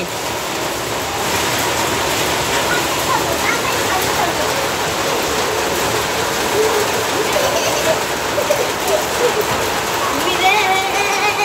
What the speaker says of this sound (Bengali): এই যে দেখেন আল্লাহর রহমতের বৃষ্টি পড়তেছে।